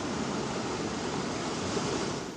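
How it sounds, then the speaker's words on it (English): Heavy rain pours down across Sydney, Australia, a dense, steady hiss of falling water that fills the whole clip without a break and fades slightly at the end. "Right now, rain is still falling in areas right across the city"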